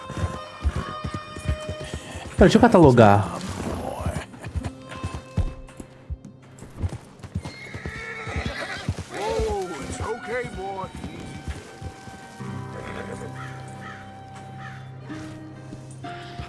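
A horse in the video game Red Dead Redemption 2 runs with clip-clop hoofbeats and a loud neigh early on, heard beneath someone talking over the gameplay.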